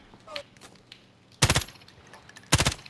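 Gunfire in Call of Duty: Modern Warfare, two loud close bursts of rapid automatic shots separated by a quieter pause with faint distant sounds and a brief voice.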